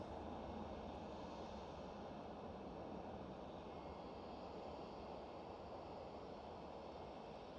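An Airbus A321neo flies at Amsterdam Schiphol, giving a steady, loud broadband jet roar that holds evenly throughout with no voices.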